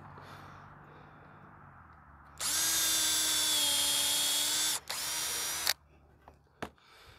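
A power drill pre-drills a wooden slat in two close, loud bursts, a long steady whine that stops briefly and then a shorter run, followed by a couple of small knocks.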